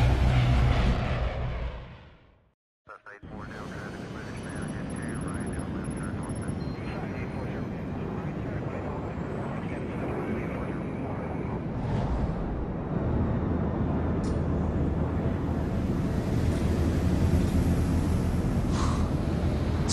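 Steady airplane cabin engine drone inside an aircraft in the Splinter Cell Blacklist video game, a continuous broad rumble after a brief dropout, running under voices talking.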